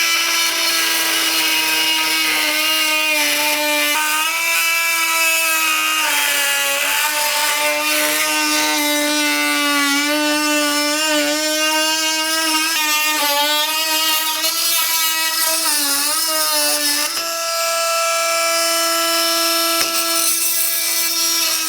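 A Milwaukee M12 Fuel oscillating multi-tool plunge-cuts deep into Doug fir, a loud, steady high-pitched buzzing whine that holds for the whole stretch, wavering slightly in pitch as the blade bites, with no voices.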